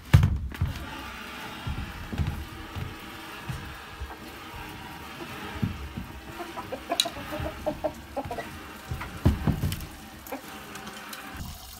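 Chickens cluck and peck in a scattered, irregular run while eating leftover spaghetti, the calls close and moderately loud against quiet farmyard background.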